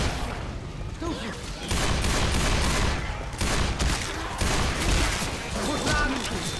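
Gunfire in the zombie shooter game Left 4 Dead 2, heard as dense overlapping automatic bursts and shots that fill the whole stretch, loud and continuous, with voices shouting underneath.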